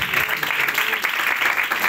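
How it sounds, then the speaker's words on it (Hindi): A church congregation claps, a dense and fairly loud wash of applause that runs steadily throughout, with faint voices mixed in. "आप अल मसीह के लिए जोरदार तालियां बजा सकते हैं"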